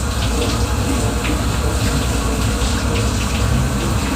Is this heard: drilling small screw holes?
no